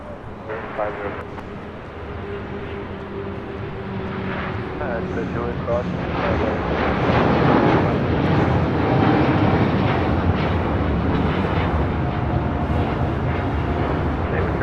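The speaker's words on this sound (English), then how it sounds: "That was LL Flight 6 taking off to Tel Aviv." An El Al plane takes off from LAX for Tel Aviv, its engine rumble building from a quieter start into a loud, sustained roar, with voices talking over the early part.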